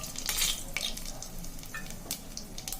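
Cinnamon, cloves and bay leaf fry in a pan of oil, giving a brisk sizzle broken by light scraping and clinking of a utensil. The burst is brief and close.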